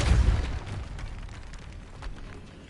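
Depulso spell cast in Hogwarts Legacy inside a decayed catacomb, a deep booming burst up front that fades into a softer crackling, rumbling tail.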